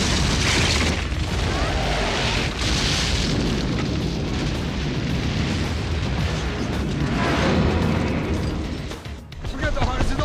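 A bomb explosion in the mountain-climbing action film Cliffhanger: a loud, sustained roaring blast with rumbling debris that fills the whole stretch and dips briefly near the end.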